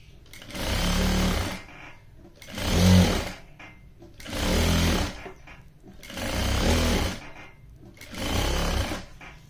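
Sewing machine stitching lace onto a lehenga, five steady runs of a few seconds each separated by short pauses, loud and close with a buzzing mechanical whir and no talk over it.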